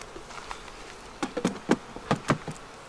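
Honeybees hum softly around a double-stacked flow hive, a low steady buzz broken by a few scattered knocks and taps as the hive is closed up.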